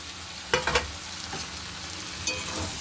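A pan of egg and potato mixture fries with a soft, steady sizzle, broken by a few brief scraping stirs, quiet and close with no talking.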